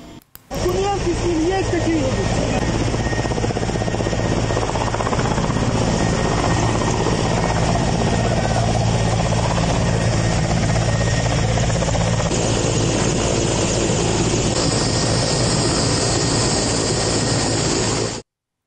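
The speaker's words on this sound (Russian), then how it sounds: "для эвакуации пострадавшего отправили вертолет Ми-8" An Mi-8 helicopter flying on a rescue evacuation, its loud, steady rotor and turbine roar continuous and close for the whole stretch, with a voice talking over it.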